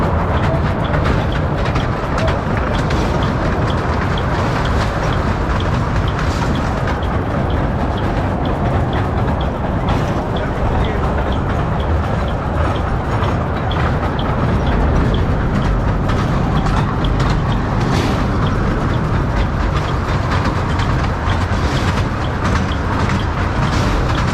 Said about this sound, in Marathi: ही समोर जी दिसते ही मिनी ट्रेन आहे.